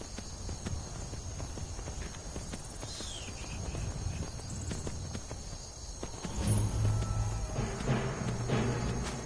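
Horse hooves clip-clop steadily in Skyrim, a continuous walking rhythm over a dense game backdrop, growing heavier and louder toward the end.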